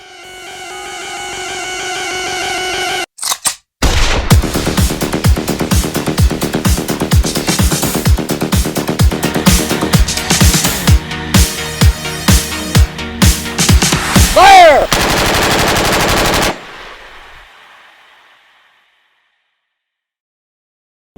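A SIG 556 rifle fired at sea during a coast guard special forces shooting drill in the East Sea: a loud, closely spaced series of shots, some in quick runs, after a short burst of other noise, then fading into silence.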